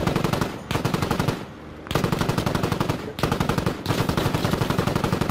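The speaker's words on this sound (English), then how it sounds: "I can't hear shit because of the guns." Continuous machine gun fire in the military video game Squad, loud rapid bursts with only brief pauses between them, filling nearly the entire stretch.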